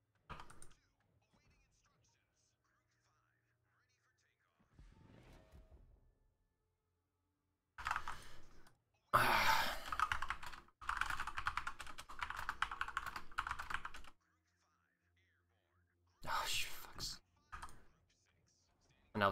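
Keys of a computer keyboard clatter in several bursts of rapid typing during a ranked World of Warships carrier match, near and fairly loud, separated by quiet gaps with some faint talk early on.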